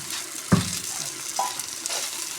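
Goat liver, lungs and meat dropped into masala fried in ghee set off a loud, steady sizzle, with a metal clank and a scraping stir up close.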